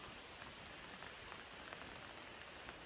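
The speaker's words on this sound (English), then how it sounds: "It's starting to rain out." Steady light rain patters on a hunting ground blind outdoors, a soft continuous hiss with faint scattered drop taps, close and quiet.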